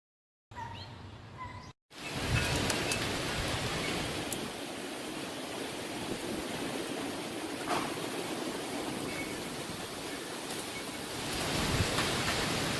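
Storm rain and wind beat outside a tent in the trees, a dense continuous roar of downpour and gusts that swells slightly toward the end, after a brief quieter moment at the start.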